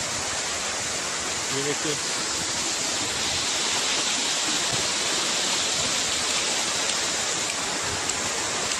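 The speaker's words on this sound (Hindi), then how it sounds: "ये वाटरफॉल देखिए, क्या ब्यूटी है, जबरदस्त यार, एक्सीलेंट, मजा आ गया." The Pine City waterfall in the Margalla Hills roars with a dense, steady rush of falling water that fills the whole scene, and someone speaks briefly near the start over it.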